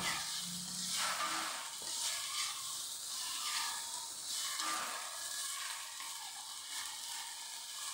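Green chilies, anchovies and stink beans sizzle and fry steadily in hot oil for a cooked sambal, a continuous close hiss with occasional stirring scrapes and no talking.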